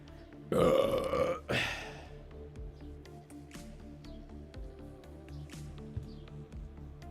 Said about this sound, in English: Burp 3.